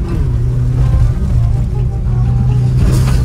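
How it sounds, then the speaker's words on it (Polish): A Subaru refitted with truck wheels is driving, giving a loud, continuous low rumble and drone that holds steady throughout, with no voices. "Boli mnie serce, jak słyszę, jak chrupie wszystko w tym samochodzie."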